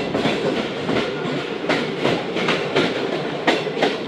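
The Karachi Express, a fast 16Dn service, rolls past in a loud, close, continuous rush. Repeated clickety-clack wheel beats sound at a fairly regular rhythm over the rumble.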